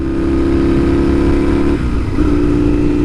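A classic motorcycle engine runs loud and steady nearby, its pitch holding, briefly dipping as it shifts, then rising again as the bike pulls away.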